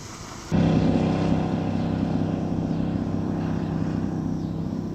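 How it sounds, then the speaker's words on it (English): Jet ski engine on a lake, starting abruptly and then holding a steady, loud, droning hum that fades slightly as the watercraft moves off. "Now the jet ski is swimming away."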